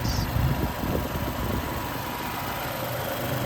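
The 3.5 liter V6 engine of a 2013 Lexus GS450h idles with a steady, close rumble under an open hood, its tone even and unbroken across the short stretch.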